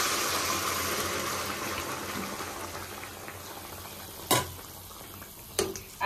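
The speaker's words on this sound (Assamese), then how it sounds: "পানীও ইফালে উতলি আছে আৰু মই পানী দি দিছো" Water bubbles at a steady boil in a pot for an Assamese khar curry, a continuous close simmering hiss broken by two sharp clinks near the end.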